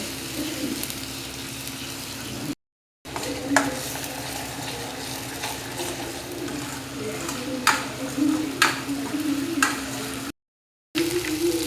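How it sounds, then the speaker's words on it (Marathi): Masala being sautéed in oil for a fish curry sizzles and hisses steadily in a pan, with scattered stirring clicks and a couple of brief breaks, close and moderately loud throughout. "हा मसाला चांगला परतून घ्यायचा। चांगलं तेल सुटते त्याला।"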